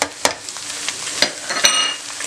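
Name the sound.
garlic frying in a pan for karela keema curry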